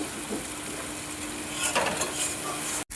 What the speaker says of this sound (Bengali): মশলা থেকে ভালো করে তেল ছেড়ে গিয়েছে